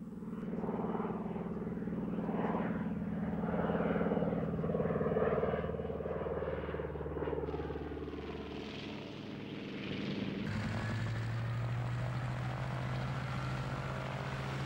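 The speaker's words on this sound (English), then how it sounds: "Lieutenant Colonel Doolittle's plane took off from the carrier Hornet, followed by the 15 others." B-25 Mitchell twin-engine propeller bomber in flight, a steady droning engine roar with shifting pitch, moderately loud and continuous with no talk over it.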